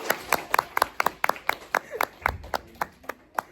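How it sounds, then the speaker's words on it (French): An audience in a hall applauds someone coming back in, with distinct sharp claps in an irregular, fairly sparse rhythm, close and clear, and a little talk underneath. "Quand il rentre, on l'applaudit."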